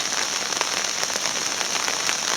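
Steady rain patters on a bee swarm hanging outdoors with its wings folded flat like roof tiles, a dense, continuous hiss of drops with no other sounds.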